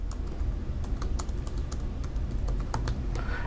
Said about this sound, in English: So clicking on Add, you can type in your comment.